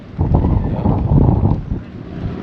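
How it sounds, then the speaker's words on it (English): Steady breezy wind gusting across a harbour full of moored yachts, a broad rumbling buffet on the microphone that swells and eases, loud and close throughout. "It's very breezy."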